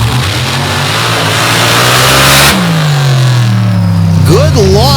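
A rear-engine drag racing rail launches down the strip at Gore Springs, its engine roaring loud and near, pitch climbing steadily as it pulls away.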